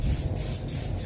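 Spray gun laying a light base coat of paint onto a Citroën DS3 at about 1.8 bar, a steady close airy hiss with brief pulses between passes, no talking.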